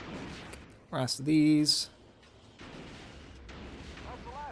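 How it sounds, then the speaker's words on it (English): Cannon fire in the Star Wars: Battlefront II level Vengeance on Kothlis, a loud booming blast with a whining, pulsing tail in the middle, while someone speaks before and after. "Pop the last cannon."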